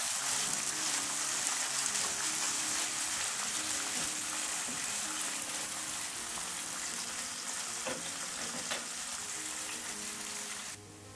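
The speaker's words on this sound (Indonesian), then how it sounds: "tumis bumbunya. Bismillahirrahmanirrahim. Cukup bawang merah dan bawang putih, daun salam, daun jeruk" Shallots, garlic, bay leaves and lime leaves sauté in hot oil for a Semarang-style beef asem-asem, giving a steady, fairly quiet sizzle that holds throughout with no talking.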